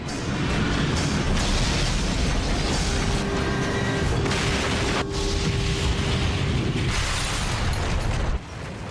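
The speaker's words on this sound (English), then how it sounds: "At 9:16 and 15 seconds, Flight 587 slams into the ground." An airliner, American Airlines Flight 587, slams into the ground in New York: a loud, sustained roaring rumble of crash and explosion noise with bursts and mechanical clatter, dropping off abruptly near the end.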